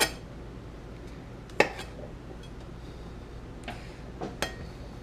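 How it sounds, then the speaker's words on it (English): Knife cutting the ends off garlic cloves on a board, a few sharp, isolated chops and taps spaced apart over a faint background hum. "I'm just cutting off the ends because we don't want to cook with that, so I'm just cutting those out."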